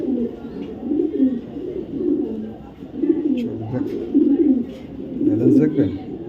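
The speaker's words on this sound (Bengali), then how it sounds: "একটা নর কবুতর চোখ দেখ" A male racing pigeon coos in low, rolling bursts close by, repeating through several seconds under a man's speech.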